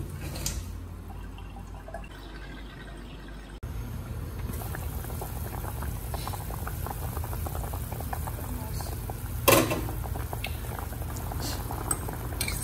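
Pork belly nilaga broth boils steadily in a pot with kangkong leaves, a continuous close bubbling roil with scattered drips and a brief splash near the middle, no talking.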